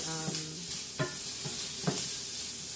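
Thick, ham-like bacon from a Brazilian grocery store browns in a pan for feijoada, a steady soft sizzle with a few faint scrapes and stirs at intervals.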